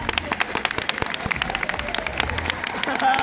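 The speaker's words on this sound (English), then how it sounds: "Everybody clap." Audience at a hypnotist show clapping together in dense, rhythmic bursts, loud and close, with a voice shouting over it near the end.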